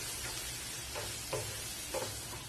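A spiced tomato gravy for chapati is being stirred in a pan, giving a faint, steady sizzle with a few soft scraping strokes of the spoon. The sound is low and continuous, and nobody speaks.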